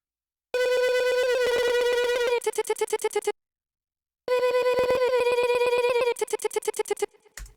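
A vocal soloed in Logic Pro runs through a chop and repeat effect. Two bursts of a bright, tonal sound each break into rapid stuttering repeats, separated by a short silence.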